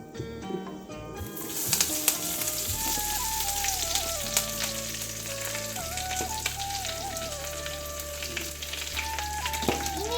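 Mustard seeds, green chili and moringa leaves frying in hot oil in a pan, a loud continuous close sizzle with occasional crackles and stirring scrapes.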